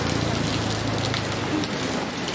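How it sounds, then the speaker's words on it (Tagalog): Rain falls steadily, a dense even hiss of drops on surfaces that stays loud and unbroken, with no voices. "Pag-ulan."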